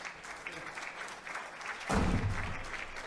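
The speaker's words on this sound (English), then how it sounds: "that's a round of applause" Applause from the audience at a squash match starts faintly, then swells abruptly into a loud burst of clapping partway through and carries on to the end.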